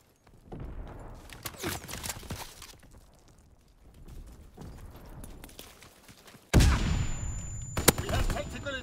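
Gunfire in a video game: scattered sharp shots and bursts, then a loud close blast followed by continued firing and rumble, with voices in between.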